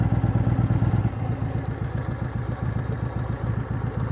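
A Yamaha Royal Star motorcycle in a parking lot, its engine running with a loud, close, steady low throb and rhythmic mechanical pulsing, idling without any talk over it.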